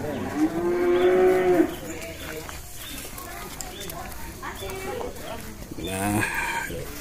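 A dairy cow gives a long, loud moo close by on a dairy farm in Takengon, with more lowing and a rooster crowing in the background while people talk.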